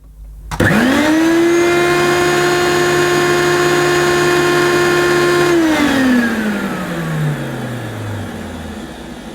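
A Hoover U2872 Turbopower Plus vacuum switches on with its hose held to a suction gauge, spinning up to a loud steady whine, then cutting off and winding down in a falling pitch.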